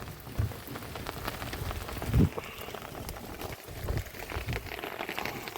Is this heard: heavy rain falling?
yes